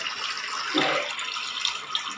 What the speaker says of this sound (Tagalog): malakas na siya mag-drain, no? Tinanggal natin yung ano sa baba, trap